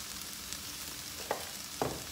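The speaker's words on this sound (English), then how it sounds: "tomatoes and let them roast a little bit" Tomatoes roast in a pan for a tofu scramble, giving a soft, steady sizzle with a couple of brief scraping stirs near the end, with no talking.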